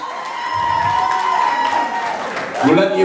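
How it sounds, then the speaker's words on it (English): Audience clapping at a presentation night, a steady burst of applause with some cheering and a voice briefly over it near the end. "We'll let the applause die down because we knew it would be a biggie."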